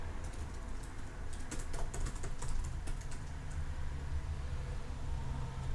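Computer keyboard typing, a quick close burst of clicking keys in the middle, over a low steady background hum, then the keys fall quiet.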